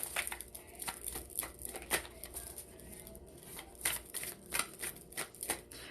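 Oracle cards are shuffled and flipped in quick, crisp bursts of riffling and snapping, close and fairly quiet, with no talking.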